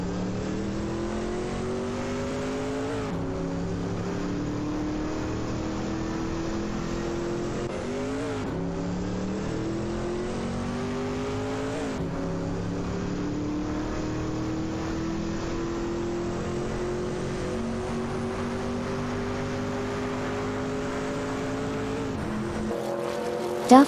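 Race car engines in an AI racing video game drone continuously, rising in pitch through gears and dropping at shifts, a loud steady whine of several cars close by, no talking.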